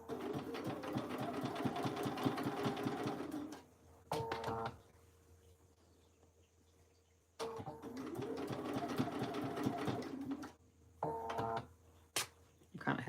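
A domestic sewing machine running a long basting stitch on a pants project, steady whirring bursts with pauses between runs, faint background between stops.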